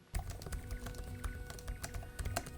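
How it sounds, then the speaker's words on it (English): Rapid typing on the keyboards of an ASUS ZenBook Pro Duo 15 OLED laptop, with crisp, close key clicks in an uneven steady rhythm and no voices. "Here is the sound of the keyboards one more time."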